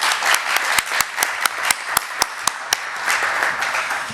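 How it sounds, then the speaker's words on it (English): An audience at an event announcing recipients of an LGBT fund breaks into applause, a dense patter of clapping with a few louder, distinct claps standing out through the middle before it thins toward the end. "Another applause line."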